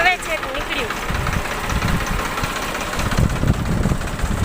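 A tractor hauling a load of fertiliser that had been stuck chugs with a low, knocking rumble, with voices talking over it.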